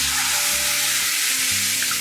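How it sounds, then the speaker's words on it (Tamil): Water is poured into roasted semolina in a hot pan while making kesari, bursting into a loud, steady hiss and sizzle that fills the whole moment. "ஸோ நம்ம 3 கப்ஸ் ஆஃப் வாட்டரை ஆட் பண்ணிக்கலாம்."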